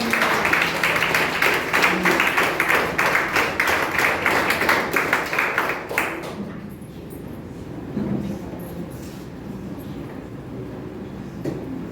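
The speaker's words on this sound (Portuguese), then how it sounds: "Se você puder, aplauda ao Senhor" A church congregation claps together at a Brazilian Pentecostal celebration service, steady dense rhythmic applause filling the room for about six seconds, then fading into quieter murmuring and scattered sounds.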